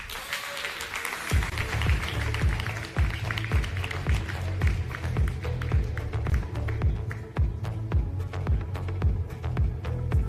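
An audience at the Solana Breakpoint 2023 conference gives a speaker a steady round of applause, dense clapping that starts abruptly and carries on evenly throughout.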